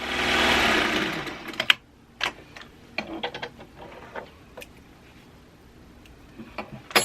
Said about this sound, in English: I'm going to sew down the other side.